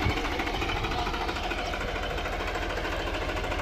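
A New Holland 3600 tractor engine runs close by, a loud, continuous, rapid diesel throb with a knocking pulse and no break throughout.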